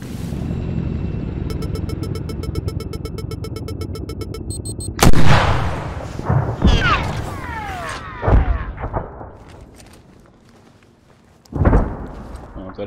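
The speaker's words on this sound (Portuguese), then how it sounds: "tá rolando tiro pra caralho ali em cima, mano." Heavy gunfire and booming explosions rumble in the Arma 3 combat game, with a sharp loud blast followed by rolling echoing reports and a second boom later, some sounding distant, with faint voices underneath.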